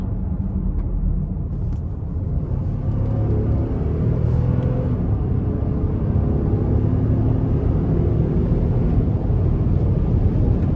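A 2024 Nissan Pathfinder Platinum with a non-turbo engine and 9-speed automatic transmission accelerating, heard from inside the cabin as a steady low engine and road rumble with some wind noise.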